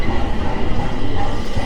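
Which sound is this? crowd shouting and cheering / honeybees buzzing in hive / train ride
train ride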